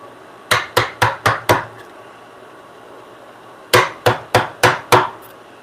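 A wooden mallet strikes in a workshop in two quick bursts of five sharp, evenly spaced knocks, loud and close, with a short pause between the sets.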